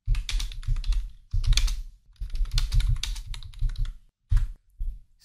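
Rapid typing on a computer keyboard while entering a value into an Excel cell, with close, crisp key clicks in bursts separated by short pauses.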